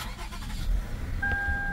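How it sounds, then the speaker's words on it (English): A 2007 Lexus ES350 sedan with nearly 300,000 miles starts up close by. A low engine rumble runs steady, and a thin electronic whine joins late in the start. No one speaks. "Let's crank her up"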